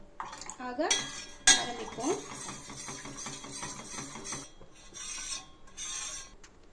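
A spoon scrapes and clinks around a pot of thickening health mix porridge, with irregular metallic scrapes and taps, louder early on then softer stirring strokes, close and clear with no talk.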